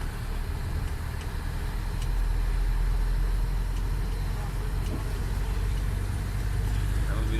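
A minibus engine rumbles steadily as the vehicle is pulled into place at an industrial garage area, low and continuous with a constant mechanical drone throughout.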